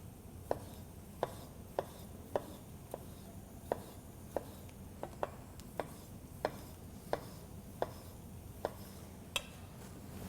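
Half a cored tomato chopped roughly with a knife on a cutting board, a steady series of crisp single knocks spaced about half a second apart, close and clear over quiet kitchen background.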